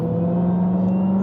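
A Dodge Hellcat, driven in sport mode, holds a steady droning engine note from inside the cabin for a little over a second, loud and even with no clear rise in revs.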